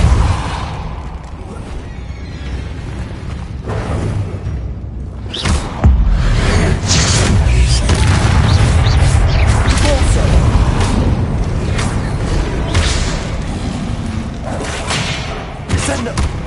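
A wizard casts the Depulso force spell in the Hogwarts Legacy video game, producing heavy booming thumps and whooshing blasts over a busy rumble of combat effects, with voices speaking intermittently.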